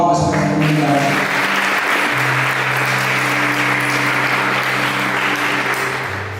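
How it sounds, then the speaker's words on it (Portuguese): A crowd at a Catholic youth vigil breaks into loud, sustained applause for a community. The clapping is dense and continuous throughout, with no voices heard over it. "Eu quero uma salva de palmas para essa comunidade"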